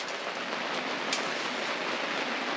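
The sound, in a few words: rain falling outside a log cabin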